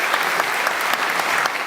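Sustained applause from state government, coalition and Greens members in a parliament chamber, dense and steady clapping filling the room throughout.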